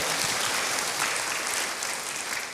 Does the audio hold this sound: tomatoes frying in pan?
no